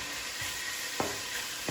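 Bacon and sausage fry for a sausage and potato soup with a close, steady sizzle and crackle, marked by two quick utensil taps.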